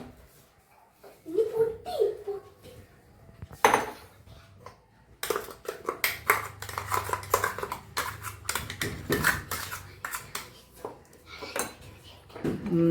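Chopped mint-leaf chutney ingredients scraped and tipped into a bowl, giving a string of clattering, scraping clicks of utensil on dish that grow busier after a quiet start, close by with a brief voice early on.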